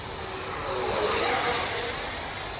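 Arrows Hobby Marlin radio-controlled model jet making a low pass on its maiden flight, a steady ducted-fan whine that swells as it draws nearer around the midpoint and then recedes, heard alone without talk.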